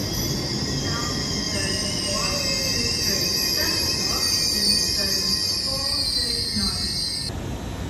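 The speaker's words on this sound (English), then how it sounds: "LNER Azuma service to London King's Cross" An LNER Azuma train at Durham station gives off a steady, fairly loud rumble with shrill wheel squeals and whining tones drifting over it, continuous throughout with no clear talking.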